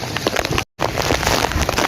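Heavy rain pours down in a dense, continuous hiss of drops hitting surfaces, broken only by a split-second gap of silence.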